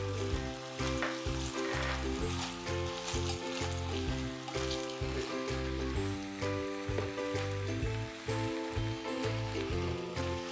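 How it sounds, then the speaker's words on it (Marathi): Clams and chopped drumstick pieces sauté in a pan, giving a steady, even sizzle with light stirring throughout, close and continuous with no talk. "तिसऱ्या छान परतून झालेल्या आहेत।"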